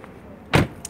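A car door opens as someone gets out of the car, giving a single short, fairly loud clunk midway through, with a faint click just after it, against quiet surroundings.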